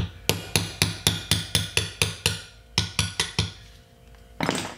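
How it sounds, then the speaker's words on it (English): A socket tapping a hub seal or wheel bearing into the front or rear wheel hub of a Honda CB350 to CB550 motorcycle: a steady run of about fifteen sharp metallic taps, close and evenly spaced, with a brief pause partway through. "Maybe tap on it just gently with the socket."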